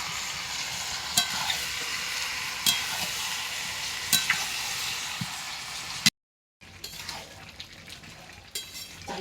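Chicken kosha being fried on a wood-fired stove at a picnic: constant loud sizzling with periodic metallic scrapes and clinks of a spoon stirring the pot, briefly cut to silence before resuming.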